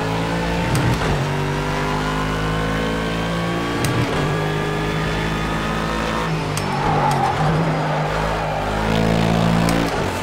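A GT3 race car in Project CARS 2 runs at full throttle, its engine screaming loud and close through rising gear pulls with brief dips at each upshift, over a steady drone of tyre and wind noise.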